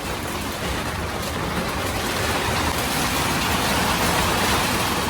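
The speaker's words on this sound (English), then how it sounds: "That is hail." Hail pelts a catamaran in Turkey during winter, a dense, loud hissing clatter that grows slightly stronger over the few seconds, mixed with wind roar and no voices.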